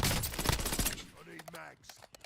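Gunfire in Call of Duty Black Ops 6, a burst of rapid, loud shots up front that thins into scattered cracks, with a voice speaking briefly over the later part.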